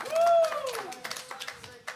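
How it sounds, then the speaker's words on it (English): An audience claps for a guest during an Audiofeed 2023 interview, a brisk patter of scattered hand claps over about two seconds, mixed with a voice and a rising tonal sweep at the start. "a round of applause for this guy"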